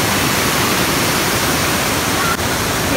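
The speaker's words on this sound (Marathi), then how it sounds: "आणि खाली पण पाणी वाहते" Water pours down below a dam in a dense, steady roar that fills the whole clip, loud and close with no break.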